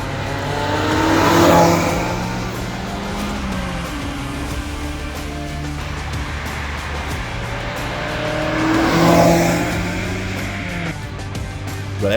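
A Lotus Elise 220 Sport engine revs hard and climbs through the gears on a test drive, the pitch rising in two loud surges with shifts between, close and continuous, with no speech over it.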